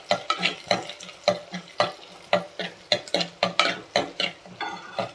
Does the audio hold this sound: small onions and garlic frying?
yes